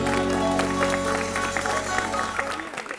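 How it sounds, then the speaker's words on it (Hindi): Studio audience applause on a Pakistani late-night comedy talk show, a steady wash of clapping laid over sustained music tones, running throughout and thinning toward the end. "तालियां।"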